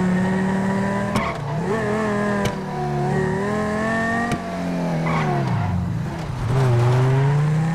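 Engine of a Honda Civic driven in GTA 5, revving and shifting through gears with rising and falling pitch, sharp clicks between shifts and tire noise, loud and steady throughout.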